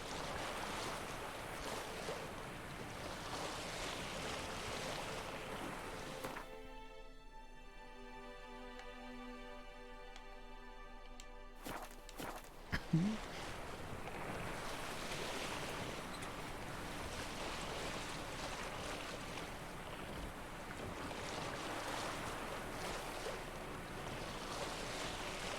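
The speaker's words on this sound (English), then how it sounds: "Geralt does himself some tacking." Geralt sails a small boat while tacking in The Witcher 3, with steady wind and water washing against the hull. The sound drops out briefly partway through, then a soft knock is heard before the rushing resumes.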